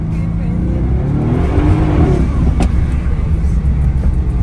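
A Mercedes-AMG GT S sports car with over 500 hp runs loud and steady, its engine droning with a rising revving note near the middle and a sharp pop or crackle from the exhaust, while people talk over it.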